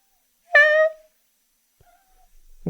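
A house cat gives one clear, close meow lasting under half a second, followed by near silence and a faint short sound at the end.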